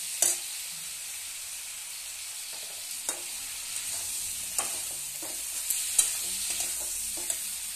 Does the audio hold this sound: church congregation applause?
no